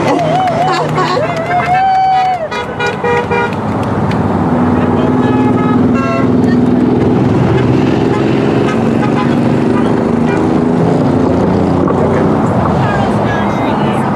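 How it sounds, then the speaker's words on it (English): Car horns blare and toot in a sustained, overlapping chorus at an outdoor political rally of supporters, honking as a standing ovation; loud and continuous for over ten seconds, with crowd noise and voices mixed underneath. "Standing ovation with the cars, right?"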